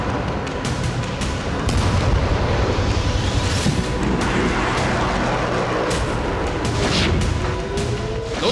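Rocket attack explosions in Nahariya, Israel, heard as a loud, continuous rumble of booms and crackling blasts that swells and stays dense throughout, with no speech.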